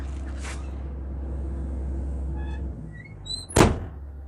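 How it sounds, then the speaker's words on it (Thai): The cab door of a Kobelco SK135SR-2 excavator shuts with one loud, solid thunk near the end, after a low engine hum that drops away and a few faint squeaks. "ขออนุญาตปิดประตูครับ"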